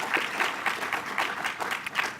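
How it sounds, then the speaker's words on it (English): A faculty senate audience gives itself a round of applause, a brief burst of close, uneven clapping that holds steady for about two seconds with no voices on top. "let's give ourselves a round of applause"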